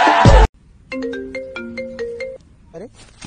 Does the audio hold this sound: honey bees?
no